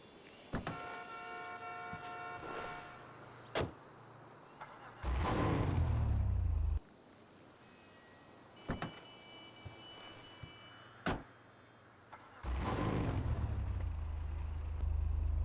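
A Willard Faction Turbo car in a video game cranks and roars to life twice, each start a loud low rumble settling into idle, with sharp clicks and short mechanical whirs in between.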